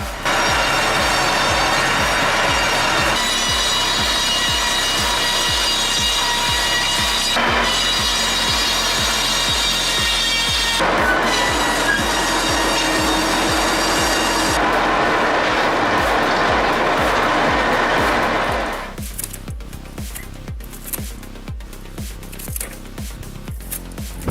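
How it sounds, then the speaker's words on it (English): A mobile sawmill cuts through a log, its blade spinning with a loud continuous whine over a rapid rhythmic thumping, the pitch shifting as the cut progresses before the noise drops to a quieter rattling run near the end. "this mobile sawmill is finally spinning again"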